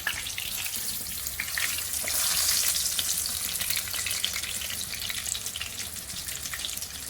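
Breaded chicken schnitzel frying in hot oil in a pan, a dense, loud crackling sizzle that swells briefly midway as the pieces are turned, steady and close with no speech.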